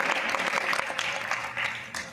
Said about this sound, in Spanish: Un aplauso a estos hombres de Dios que van a bendecir nuestra vida.